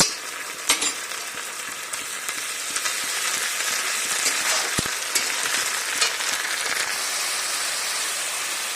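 Browning onions fry steadily in hot oil in a pan with half a spoon of ginger garlic paste, a dense continuous sizzle and crackle close up, with occasional sharp spits and pops.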